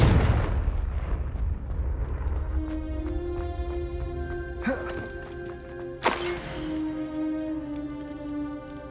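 Confringo fire spells blast in the video game Hogwarts Legacy, a deep rumbling explosion at the start, then a bright burst with ringing, tonal magical effects and a second sharp blast, loud and close.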